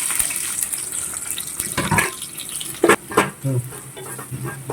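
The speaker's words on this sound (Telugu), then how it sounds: "ఆయిల్ వేడైపోయింది ఫస్ట్ పచ్చిమిర్చి చేసేసుకుంటున్నాను అలాగే ఆనియన్స్ కూడా" Green chillies and onions drop into hot oil for a Telangana-style fish curry, giving a close crackling sizzle with a few sharp stirring knocks and scrapes partway through.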